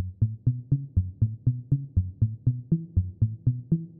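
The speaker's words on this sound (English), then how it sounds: "here's some reverb, and I'd say we got a pretty similar pluck sound." A synthesized sine-wave pluck run through a filter and reverb plays a steady, even sequence of about sixteen short low notes, each with a sharp attack and a quick decay, clear and alone.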